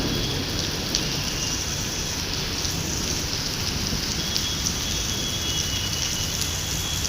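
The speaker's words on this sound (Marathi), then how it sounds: "अजून पाऊस वाटतो एकदम कडकडे." Heavy rain pours steadily outdoors in the city, a dense, even hiss of drops on surfaces with faint traffic rumble beneath, continuous and close, no speech.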